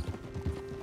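Horse hooves clip-clop in the video game Red Dead Redemption 2, a few quick, dull thuds of a walking horse over a steady background tone.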